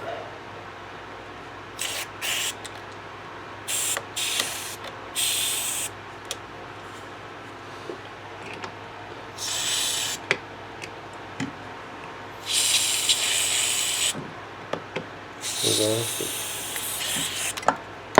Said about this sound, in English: it's not giving me much room, but it's enough to spray this sucker out